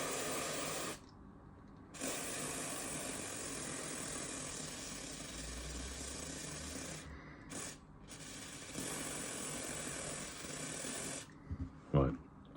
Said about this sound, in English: And then what I'll do is spray it.